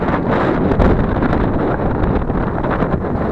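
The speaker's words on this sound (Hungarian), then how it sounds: "nagyon fúj a szél" Strong wind buffets the microphone on a walk near the Aszófő railway station by Lake Balaton, a loud, steady roar with gusty surges and no talking.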